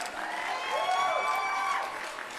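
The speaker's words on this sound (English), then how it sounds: "Thank you kindly for that applause and for the claps for Loris." Steady applause and clapping at a magic livestream, a soft even wash of many hands with no distinct single claps, fairly faint and continuous throughout.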